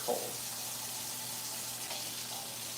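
Warm water runs steadily from a kitchen tap while pizza dough is being prepared, giving a soft, continuous hiss and splash close by with no talk over it.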